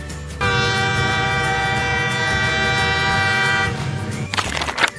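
A loud, sustained train horn blares for several seconds over rumbling rail noise, then cuts off as clattering wheels continue.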